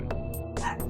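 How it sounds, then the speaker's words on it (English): A pet dog gives a few quick, high yips and barks in a room, fairly close and moderately loud, with no talking over it. "Papita, what are you barking at?"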